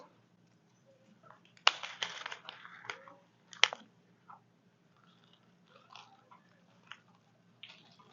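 Sea salt and cinnamon chips are poured in layers into a small bottle, giving short gritty rustling bursts, two of them stronger, then softer scattered trickles and taps, close and fairly quiet.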